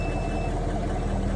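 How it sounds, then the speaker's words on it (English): A Ford F-150 pickup sounds a steady electronic warning beep for a low-battery error, a high tone over a low engine-like hum with no talking. "Beeping at me for some reason."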